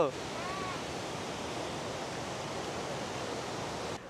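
A river tumbling over a series of rapids in forested hill country on a rainy day, heard as a steady, dense rushing roar that stays even throughout with no voices.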